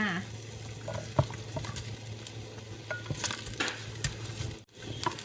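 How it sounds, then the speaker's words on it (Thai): Ginger and garlic are stir-fried in chicken oil for chicken rice. The oil sizzles softly and steadily while a utensil scrapes and taps the pan at irregular intervals. "ใส่ขิงกับกระเทียมลงไปผัดให้หอมเลยค่ะ"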